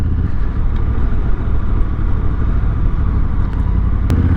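A 2025 Honda Africa Twin motorcycle engine drones steadily and loudly at low revs while riding, a constant close rumble with no talking and a faint click near the end.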